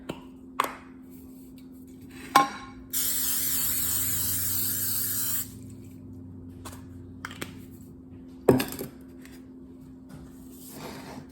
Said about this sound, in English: And then we need to spray it with cooking spray.